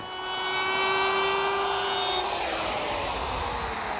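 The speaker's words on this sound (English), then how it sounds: "Then I'll radius the top and bottom edges with a 1/2 inch rounding over bit" Router fitted with a 1/2 inch roundover bit running along the edge of a teak bar counter, a steady high whine held at constant loudness with no talking.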